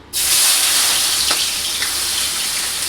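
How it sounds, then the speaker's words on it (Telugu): Sliced onions dropped into hot oil in a pan erupt into a loud, close sizzle that starts abruptly and holds as a steady bright hiss, easing slightly toward the end. "ఆయిల్ అయితే హీట్ అయిందండి నేనైతే ఉల్లిపాయలు అయితే వేసుకుంటున్నాను"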